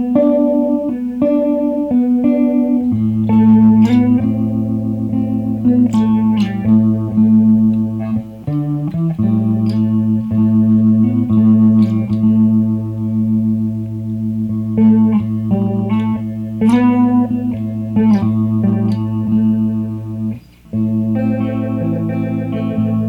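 Electric guitar played through a Warm Audio Mutation Phasor II phaser pedal, sustained chords and picked notes with a sweeping, swirling phase effect and some drive, loud and continuous for over twenty seconds with no speech.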